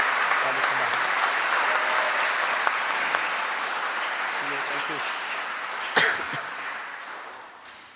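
An audience in a church at a Christmas celebration applauds steadily, with dense clapping that slowly tapers off. A sharp knock or thud breaks through near the end, and scattered coughs and murmurs sit underneath.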